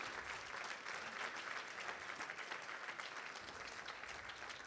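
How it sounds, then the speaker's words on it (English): Steady crowd applause fills a fundraising gala hall, dense and sustained clapping from many hands at moderate distance, with a faint cheer mixed in. "Round of applause for"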